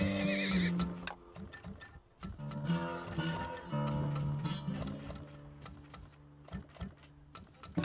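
Horse neighs and whinnies in the oil-drilling video game Turmoil, a loud whinny at the start followed by clip-clop hooves and mechanical clinks over game music.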